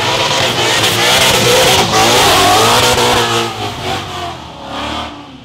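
Ford Mustangs rev hard while drifting on a mountain pass, a loud, close engine roar that holds steady and then falls and surges unevenly toward the end, with no voices.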